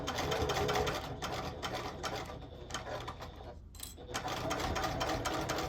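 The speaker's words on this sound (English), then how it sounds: "I'm using a 3 stitch length, and I'm back stitching at the beginning and the end" A sewing machine back stitches a bag seam in quick bursts of rapid, close stitching that stop briefly and resume, with no talking.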